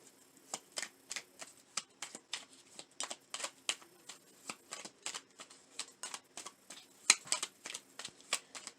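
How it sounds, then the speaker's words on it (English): Tarot message cards being shuffled by hand, a quick run of crisp riffling flicks in a steady rhythm, close and fairly quiet with no talking. "Let me pull a few message cards here."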